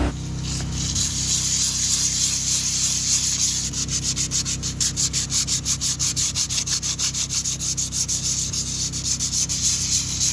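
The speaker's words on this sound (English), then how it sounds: "Sanding it just to roughen the surface so that the fairing compound will actually stick." Sandpaper scrubs a dried epoxy keel patch on a sailboat under refit, a loud continuous rasp that settles into quick regular back-and-forth strokes with no voices.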